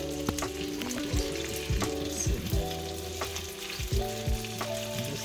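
Onions sizzle in a pan for a warm bacon dressing, with a loud continuous frying hiss and scattered clinks of stirring up close.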